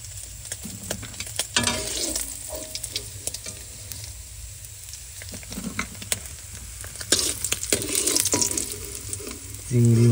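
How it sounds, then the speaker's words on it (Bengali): Potatoes frying in hot oil in a home kitchen, a steady close sizzle with stirring scrapes and clinks of a utensil throughout, growing louder near the end. "তেল গরম হয়ে গেছে, এবার তরকারি চাপাই দেবো, আলুটাকে ভেজে নেব"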